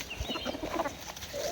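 Chickens cluck close by in a garden in light rain, giving several soft, short clucks in quick succession over faint background noise.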